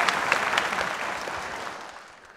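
Audience applause at a school big band concert, a dense, steady wash of clapping that starts loud and slowly fades, with no talk over it.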